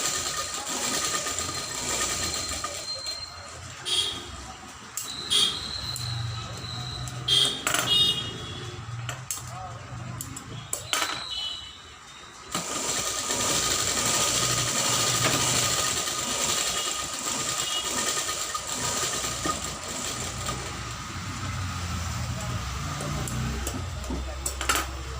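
Sewing machine stitching a child's full blouse in bursts, a few short runs of stitches broken by pauses and handling noises, with a steady hum underneath and someone speaking in places.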